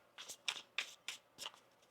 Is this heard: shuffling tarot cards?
yes